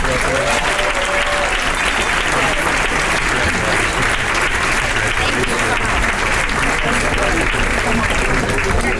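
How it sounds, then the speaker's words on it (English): Sustained loud applause from a banquet crowd at a Teacher of the Year event, dense steady clapping lasting throughout with the room's murmur beneath. "Let's give them another round of applause."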